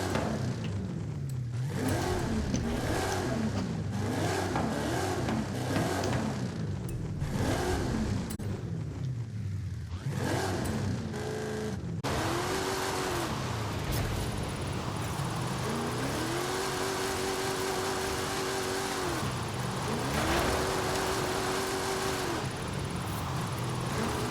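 Plymouth Belvedere drift car with drift suspension in Forza Horizon 5, its engine revving up and down in repeated rhythmic surges, then holding long sustained notes during smooth drifts, loud and close with no talk.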